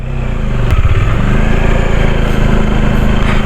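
Motorcycle engine near Fuyot Spring in Ilagan, a loud close, steady chugging putter that rises slightly as it revs; no speech.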